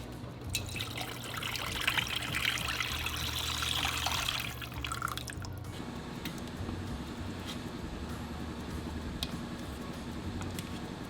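Rendered bone marrow fat strained and poured at home, a steady liquid trickle for several seconds that stops abruptly, followed by quieter handling noises.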